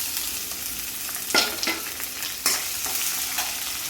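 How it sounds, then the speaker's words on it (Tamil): Onions with curry leaves and dried chillies sauté in a pan under a steady sizzle, punctuated by a few quick scraping stirs, with no voices. "இப்படி நல்லா வதக்கி விடுங்க."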